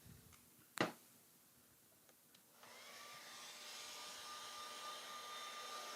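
A hair dryer blows on water-based paint, switching on after a sharp knock and a few light clicks and then holding a steady close whoosh alone.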